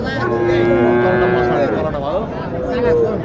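A Sahiwal cow at the Mataji cattle market in Naogaon gives a long, loud, close moo that wavers in pitch, then a second shorter call, with the murmur of the market crowd behind.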